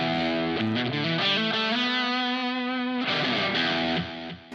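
Distorted electric guitar solo tone through a Positive Grid Spark amp, a sustained lead line of held and bending notes with heavy saturation, played alone and close.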